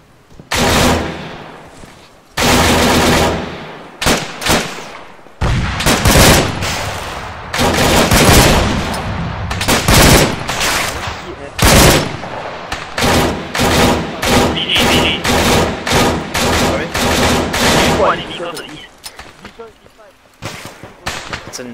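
Machine guns fire in ArmA 3 in heavy, repeated bursts, loud and close, with longer sustained volleys and short pauses across the stretch, mixed with thuds and voices talking at times.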